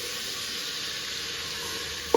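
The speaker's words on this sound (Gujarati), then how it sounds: "હવે નાખી દેવાનું પાણી." Brinjal masala curry sizzles steadily in a pan, a soft continuous frying hiss, ending with a brief sharper splash and burst of sizzle as water hits the hot oil.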